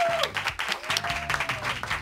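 A short burst of studio audience clapping on a radio-style talk show, moderately loud, with a sustained musical tone and bass notes running underneath.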